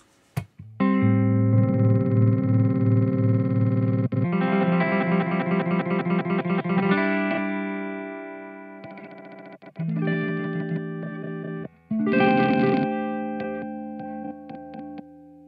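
Short random glitch samples from a TKOG Mini Glitch pedal chop through a sustained effected instrument tone, with stuttering bursts and abrupt dropouts, loud and close, no talking.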